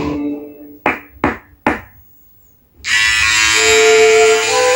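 A One Blade 360 electric shaver trims and shaves. A few sharp taps and knocks come first, then a short silence, then a loud, steady high buzz that runs close to the end.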